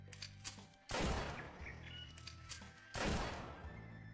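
Two loud, sharp gunshots ring out about two seconds apart at wild boars in an audio drama hunting scene, each a sudden blast with a short decaying tail over a quiet background.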